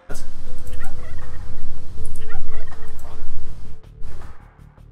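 A flock of turkeys gobbles loudly and continuously in the Age of Empires II video game, with overlapping rapid warbling calls over a dense game soundscape.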